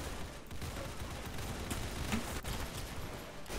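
Gunfire in the Roblox shooter Arsenal, a dense, noisy stream of rapid shots with a few sharper cracks standing out, steady in level and with no voices over it.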